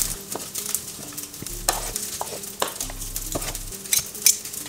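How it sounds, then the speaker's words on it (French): Rice sautéed in olive and coconut oil in a frying pan, with busy close sizzling, repeated spatula scrapes and clinks against the pan, and low bumps of the pan shifting on the stove; nobody speaks. "le but c'est de faire sauter le riz dans de l'huile"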